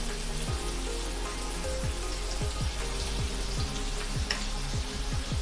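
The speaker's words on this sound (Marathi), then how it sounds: "तर त्यामध्ये आपण लसूण टाकून घेऊया" Garlic sizzles in two spoons of hot oil in a kadai on a gas stove, a steady, close, crackling hiss with faint popping spatters and no talking.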